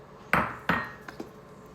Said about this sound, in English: we're gonna be adding in 1 cup of heavy cream. And you're gonna mix it up really good.